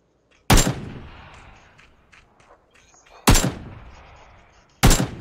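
Three sharp, loud gunshots ring out from a battle royale game, each followed by a decaying echo, spaced a couple of seconds apart over quieter background movement.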